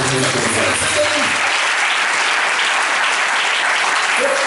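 A church congregation breaks into loud, sustained applause that fills the room from start to finish, dense and even, with a few voices briefly audible at the outset.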